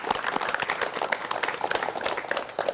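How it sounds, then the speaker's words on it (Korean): A 1985 KBS studio audience welcomes a guest on a television talk show with a short burst of lively clapping, a close, busy patter of many hands heard on its own. "박수로 맞이해 주십시오."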